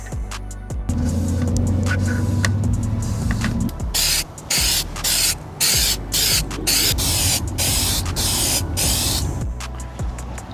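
SEM Trim Black aerosol paint sprayed onto plastic trim from a BMW E30 car. A low hum comes first, then a series of close, loud hissing spray bursts, about eight in a row, separated by brief gaps.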